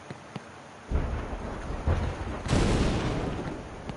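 A thunder tiki explodes in the SpongeBob Battle for Bikini Bottom video game: a few low rumbling booms build into a big thunderous blast, followed by a rolling, crackling decay, with no voices.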